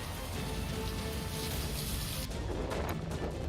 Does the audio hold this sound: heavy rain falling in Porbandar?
yes